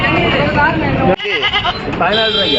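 Goats bleat loudly and repeatedly at a busy Saturday livestock market in Ettayapuram, Tamil Nadu, with several animals calling close by over crowd noise and talk.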